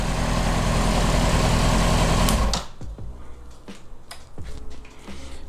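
A warmed-up Honda CBR 600RR sportbike idles with a loud, steady buzzing drone, then cuts off abruptly, leaving a quiet background of scattered clicks and light knocks.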